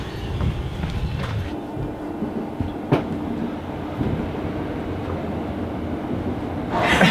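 A train passes through St. John's station in Lewisham, London, as a steady, loud rumble of wheels and carriages that continues throughout, with a few sharper clanks and a brief swell of hiss near the end.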